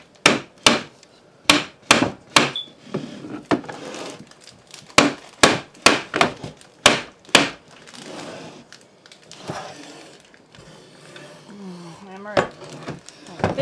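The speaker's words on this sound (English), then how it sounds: "now I'm going to hammer this, so you might want to move over just a little bit" A hammer pounds a broken wooden chair during a repair, giving a series of sharp, close wooden knocks in uneven bursts that thin out midway, with a voice speaking softly between the blows.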